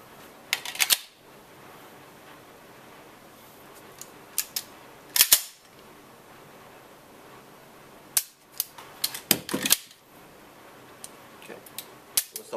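Gunshots from a double-action handgun at a shooting range in the Czech Republic, sharp loud cracks spaced irregularly, some singly and some in quick pairs, with quiet room noise between them.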